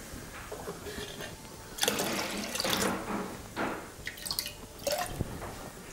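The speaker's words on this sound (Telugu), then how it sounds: "ఒక కప్పుకి 2½ కప్పులు నీళ్లు పోసుకోవాలి." Water splashes and gurgles into a pressure cooker in uneven bursts, fairly close, with quiet handling noise between pours.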